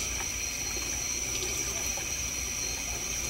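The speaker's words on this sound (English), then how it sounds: "So we'll give that a nice thorough rinse." Strawberry plant roots being rinsed gently under a running tap, a steady, fairly quiet stream of water into a sink with a constant faint tonal hum behind it and no speech.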